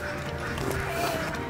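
A flock of ducks on a farm raising them in the capital city, fed on shrimp heads: dense overlapping quacking and honking calls fill the short stretch at close range, with faint voices blended in.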